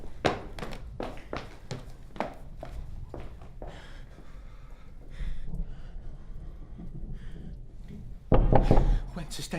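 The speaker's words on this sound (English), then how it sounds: "Whence is that knocking?" Repeated hard knocks on a door in a staged Macbeth murder scene, a quick run of sharp raps over the first few seconds, then quieter room sound with a low voice and a louder thud near the end.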